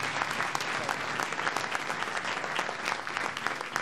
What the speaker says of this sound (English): We have a round of applause while James comes to the stage.